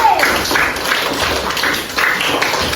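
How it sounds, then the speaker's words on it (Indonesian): Classroom of elementary students clapping for a group after a science presentation, a brisk burst of scattered hand claps from a room full of children, fairly close and continuing evenly for a few seconds. "Beri tepuk tangan untuk kelompok Matahari sekali lagi"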